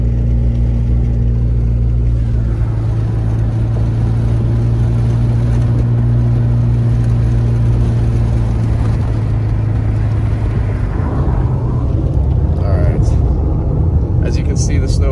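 A truck rolls past on a mountain road at the edge of Big Bear, near the descent toward Lucerne Valley, its steady low engine rumble and road noise filling the scene and shifting as it passes, with a voice talking over it.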